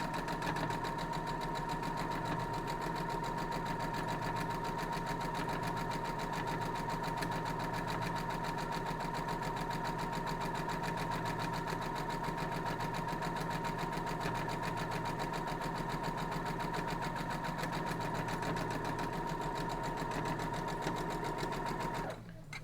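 A sewing machine runs steadily, stitching quilt block pieces together with a continuous rapid mechanical whirr and needle rhythm. It holds at a moderate level from start to finish and cuts off at the very end.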